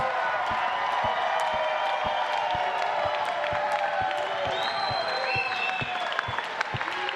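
A crowd at a Shamrock FC event cheers and applauds the troops, sustained loud applause with whoops and shouts, plus a steady, regular knocking beat running underneath throughout.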